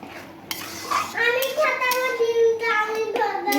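Spoon scraping and clinking in a pan while egg tarka is mixed with tarka spice, close and steady, with a voice-like tone sounding over the stirring.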